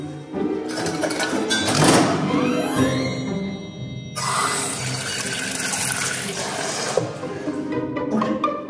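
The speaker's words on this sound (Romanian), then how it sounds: "Să iau un vas, să pun apă și să pun biberonul la bai mare." Water running and filling into a pot from a tap to warm a baby bottle in a home kitchen, a steady continuous rushing splash with a brief pause midway, close and fairly loud with no talking.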